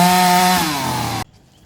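Chainsaw cutting through 25-year-old green trees inside a garden park, a loud steady droning whine with shifting pitch as the blade bites, then cutting off abruptly near the end.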